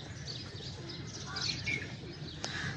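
Pigeons cooing near a fort's back side in Multan, soft repeated coos and a few chirps over light outdoor background noise, close and fairly quiet.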